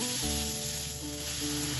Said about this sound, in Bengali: চিনিটা দিয়ে আমি ভালোভাবে মিশিয়ে নেব